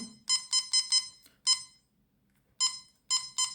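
Short electronic beeps from the buttons of a TFA digital BBQ meat thermometer, a quick run of four clear beeps, then single beeps with pauses and a final pair, close and alone with no talk.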